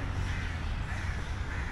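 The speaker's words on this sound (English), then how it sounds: "Ah, it's bats and crows." Crows caw in a park in Mombasa, their calls blending into a steady, faint chorus of bird noise without any talking.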